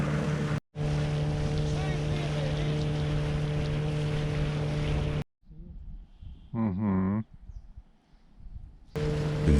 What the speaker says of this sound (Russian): Мотор Ханкай чуть менее 10 лошадиных сил